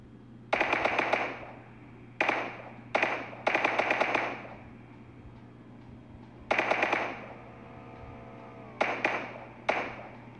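Enemy gunfire in PUBG Mobile comes in several sharp bursts of rapid shots spread across the clip, loud and close, with quieter gaps and a steady low hum beneath.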